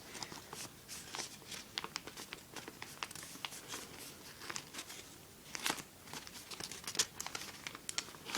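Thick origami paper being folded and creased firmly for a Satoshi Kamiya Ancient Dragon model, giving close, faint crinkles and sharp crackling presses in an irregular run with no voices.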